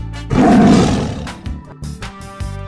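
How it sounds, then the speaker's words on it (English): A cartoon tiger gives a loud, sustained roar that swells and then tapers off, trailed by a few shorter growling bursts, with no talking over it. "tiger,"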